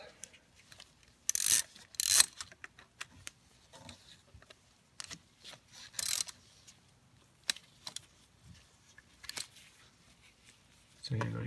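Screw being backed out of an ignition coil on a Mercedes C300 W204, faint intermittent ratcheting clicks and metallic taps spaced irregularly, close up and quiet, with a brief rustle at the end.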